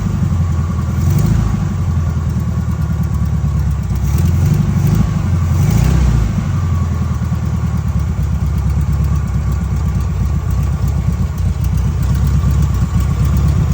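A 1970 Volkswagen Beetle air-cooled engine runs loud and close, a rough steady rumble with a couple of brief revs near the start, then holds a constant idle.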